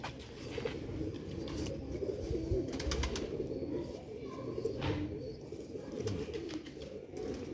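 Grey pigeons of a prized old Ali breed coo softly and steadily at close range, with a low, murmuring rumble that continues under faint background chatter throughout.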